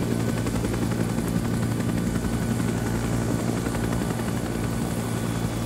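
A Bell Huey helicopter in flight in the video game Arma 3, its rotor chop and turbine drone loud, steady and continuous throughout with no talk.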